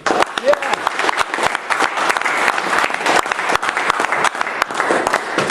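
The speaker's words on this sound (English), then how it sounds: "Can we give a round of applause once again?" Audience applause fills a Toastmasters club meeting, a dense, steady burst of many hands clapping close by for the full length with a brief voice mixed in near the start.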